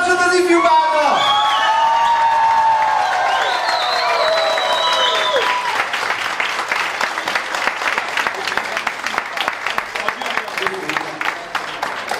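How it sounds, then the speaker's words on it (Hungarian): Wedding guests at a Hungarian reception break into loud applause for the newlyweds, with whoops and shouts rising over a broad, sustained wash of clapping that fills the room as a voice speaks over the start. "Egy nagy tapsot az ifjú párnak!"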